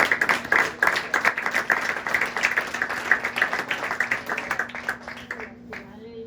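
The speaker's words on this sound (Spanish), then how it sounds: "Denle un aplauso al Señor" Congregation applauding during a service at a Pentecostal church, rhythmic clapping in quick, even beats that fill the room for several seconds and then trail off, with a sustained tone and a voice near the end.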